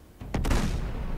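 A single sharp explosion blast hits suddenly and rolls off into a low rumbling decay, fairly loud, with nothing else around it, in Uncharted 2: Among Thieves.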